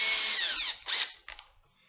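Power drill boring a hole for a Miata turbo oil drain, a loud whining motor burst that falls in pitch, then two shorter whirs tapering off, close with no talk.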